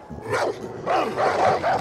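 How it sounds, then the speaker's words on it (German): Dogs with skulls painted on them bark and growl in the video game Far Cry New Dawn, a few close, loud barks followed by a quick run of yelps. "Guck mal, die Hund hier, die haben Schädel aufgemalt."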